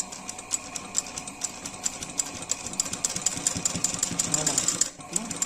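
A sewing machine stitches the folded-in edge of a kurta in a steady, rapid run close by. The stitching rhythm quickens toward the end and then cuts off briefly near the close.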